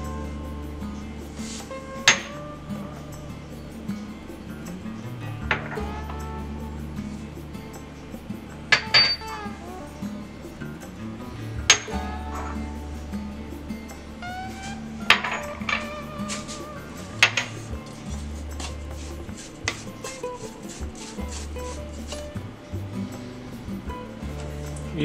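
Dry rub spices with ground black pepper are mixed in a bowl for prime rib, producing scattered clinks and taps of utensil on bowl over a steady low background, close and moderately quiet.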